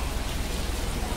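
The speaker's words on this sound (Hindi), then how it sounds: "दिख रही है बारिश हो रही है" Rain falls in a steady, even hiss with dense patter for a brief moment, and no voices are heard.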